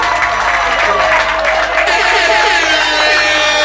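Wedding guests applauding at a customary and civil marriage ceremony, a dense continuous wash of clapping with voices and music-like tones mixed underneath.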